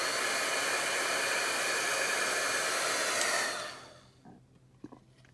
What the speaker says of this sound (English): once the heat gun is heated up, it happens even quicker